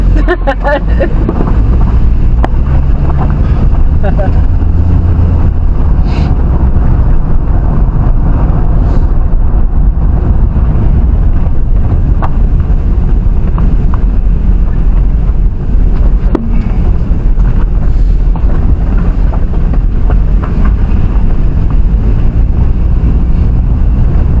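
A car driving down a road, heavy wind buffeting the microphone in a loud, steady roar with constant low rumble throughout, and faint voices now and then under the noise.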